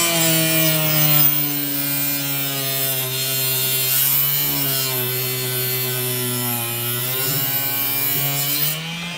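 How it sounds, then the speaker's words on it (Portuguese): A mini bench-top circular cut-off saw slices through a small piece of wood, a loud steady high whine with a droning tone that dips slightly as the blade bites in, then stops near the end. "Tá, então eu vou cortar essa madeirinha pra gente ver."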